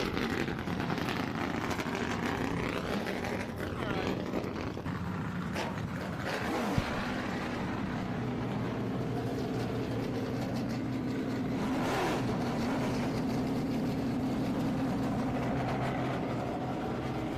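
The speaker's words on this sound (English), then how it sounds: "let's get it on. Start your engines." Race car engines at WeatherTech Raceway Laguna Seca for a 2022 TA/XGT/SGT/GT feature race, a steady, loud blended rumble of many idling and revving engines across the grid, with a brief sharper burst midway.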